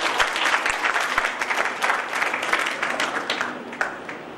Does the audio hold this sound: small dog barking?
no